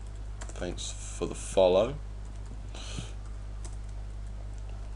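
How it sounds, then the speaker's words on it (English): Typing on a computer keyboard, a close run of quick key clicks in short bursts, with someone speaking over parts of it. "let's just type something here"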